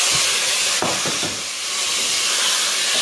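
Tomatoes tipped into a pan of sizzling garlic, a steady loud frying hiss filling the whole stretch with a few soft knocks near the start; no talking.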